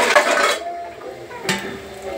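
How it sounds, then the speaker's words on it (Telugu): A metal lid clinks down onto a cooking pot holding tamarind chutney, two bright clattering contacts close by with a short gap between them. "మూత పెట్టి"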